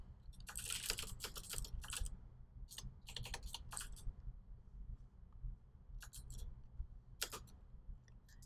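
Quiet clicking on a computer keyboard comes in short bursts of rapid keystrokes with pauses between, close and soft against low room hum.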